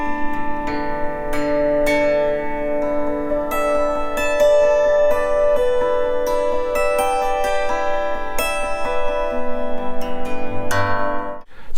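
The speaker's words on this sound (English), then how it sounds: "So then the brush will hit first with the hairs and then will also hit the string below" Autoharp strings swept with a brush whose hairs and metal strike the strings, producing a continuous shimmering ringing of chords with repeated soft percussive strokes throughout, close and fairly loud, no talking.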